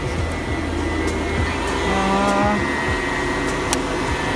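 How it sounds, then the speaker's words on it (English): A vacuum cleaner drones steadily nearby, a continuous broad roar with a faint whine, constant level throughout. "She's vacuuming."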